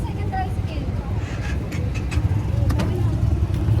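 A motorized tricycle engine runs with a steady low rumble, close by, while people talk over it during a family trip in Boracay.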